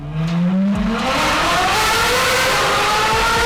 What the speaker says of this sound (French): je remplacerais le hurlement du V8 qui l'équipe